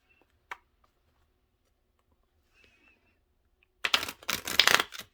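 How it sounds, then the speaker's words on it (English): A brief quiet tap, then a rapid fluttering riffle of tarot cards being shuffled near the end, loud and close. "Let me see if I can ruffle shuffle it."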